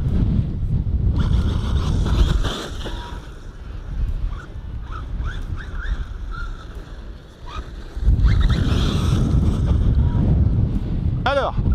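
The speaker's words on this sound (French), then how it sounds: "Oh là là, il y a énormément de vent." Strong wind buffets the microphone outdoors in heavy rumbling bursts that rise and fall, loudest at the start and end, with faint chirpy squeaks and knocks between gusts.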